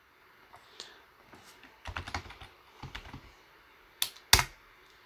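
Someone types on a computer keyboard in short bursts of close, crisp key clicks with pauses between, ending in two sharper key strikes, in a quiet room.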